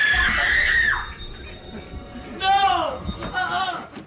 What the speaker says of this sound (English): experiencing what they could only describe as a blood-curdling shriek